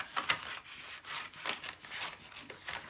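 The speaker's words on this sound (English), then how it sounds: "So I choose to cut down that seam and I trim it out like this." Scissors or a blade cut along the seam of a paper bag, a faint, close, rhythmic rasping and crinkling with short strokes repeating every half second or so.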